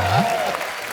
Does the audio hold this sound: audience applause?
yes